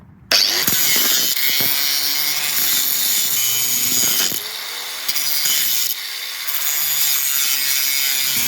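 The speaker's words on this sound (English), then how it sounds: "Angle grinder." Angle grinder cutting metal during a Porsche restoration, starting abruptly and running as a loud, continuous harsh whine and rasp up close, with small shifts in pitch as it bites.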